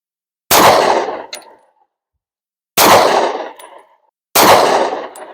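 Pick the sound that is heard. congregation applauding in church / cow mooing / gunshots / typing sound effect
gunshots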